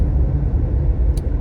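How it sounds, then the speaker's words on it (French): Steady low rumble of road and engine noise heard from inside a moving car, a constant close drone with no speech and one brief faint high click near the end. "Je suis en voiture"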